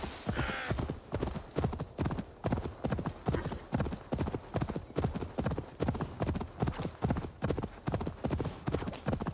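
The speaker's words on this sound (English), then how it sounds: "Need a horse" Horse hooves clip-clop in a steady, quick rhythm throughout, close and distinct, with a brief neigh at the start, in the video game Assassin's Creed Valhalla.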